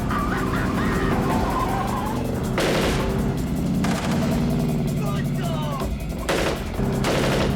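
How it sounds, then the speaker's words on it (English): Machine guns fire from a van into a car alongside, heard as rapid bursts of shots in several short volleys over a music bed. "they start machine gunning the car."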